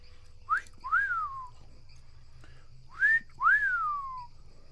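A wild bird gives two rising-then-falling whistled calls like a human catcall, each a quick upward note followed by a longer drawn-out slide, clear and fairly close against a quiet outdoor background.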